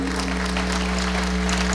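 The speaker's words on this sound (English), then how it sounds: "give a round of applause" Applause from an expo welcome event audience honoring the event organizer, a steady even wash of clapping from a crowd, with a constant low hum underneath.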